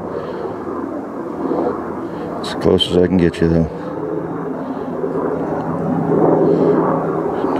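A helicopter's rotor and engine drone rumbles steadily in the background, with someone talking over it throughout.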